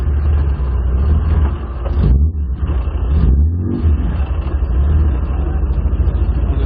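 A modified Jaguar E-type's engine revs loudly up close, then the car pulls away with a deep, sustained rumble that dips briefly twice as the driver shifts, then holds a strong, throaty drone.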